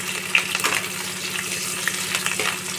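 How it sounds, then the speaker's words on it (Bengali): Green chillies frying gently in a pan over low heat, a soft steady sizzle with light crackles and a few stirring scrapes, close and continuous, no voices. "আঁচ কমিয়েই কিন্তু আমি এটা ভাজবো"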